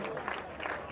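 A church congregation clapping loudly during prayer, a dense burst of applause under a speaking voice.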